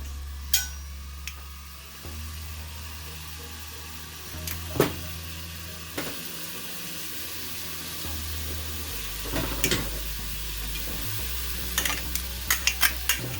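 Steady sizzling of goat meat frying in a pot for curry, continuous and close, with occasional clinks and scrapes of a utensil stirring.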